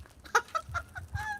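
Geese honking outdoors, several short nasal calls in quick succession, moderately close and alone.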